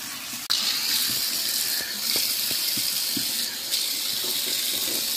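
Water runs steadily from a salon sink tap while a child's hair is rinsed, a close, continuous gush with brief shifts as the stream is moved.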